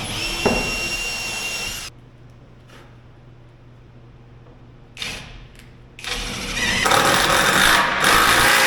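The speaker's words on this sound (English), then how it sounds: "I am probably going to use like an 1/8 inch bit just to pre-drill them." A power drill with a 1/8 inch bit pre-drills screw holes while building a utility trailer, with a loud whirring burst at the start, a quieter stretch, then a long sustained drilling run near the end.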